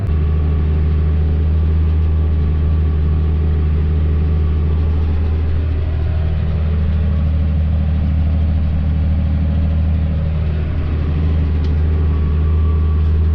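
A tractor planting milo in a field, a loud, steady low engine rumble that holds level with no break, heard from inside the cab.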